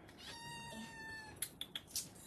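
A cat in a cattery meows in a long, drawn-out call, then makes several short, sharp chirps near the microphone.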